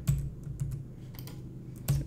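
Quick bursts of typing on a computer keyboard, a handful of close, soft clicks and clacks in an uneven rhythm, with no talking.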